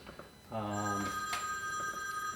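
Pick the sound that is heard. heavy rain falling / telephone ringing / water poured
telephone ringing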